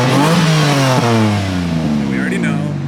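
A Ford Mustang GT with an aftermarket exhaust revs loudly up close, its deep engine tone climbing and easing in pitch over a few seconds and staying strong to the end.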